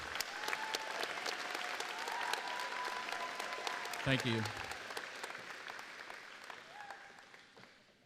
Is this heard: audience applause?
yes